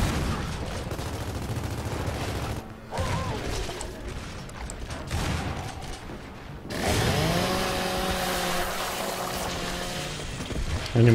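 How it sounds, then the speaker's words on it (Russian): A chainsaw roars and grinds in the video game Gears of War 4, running dense and loud under gunfire and mechanical noise, with the engine pitch rising into a sustained buzzing whine toward the end. "Анимация распиливания со спины один в один из прошлых частей."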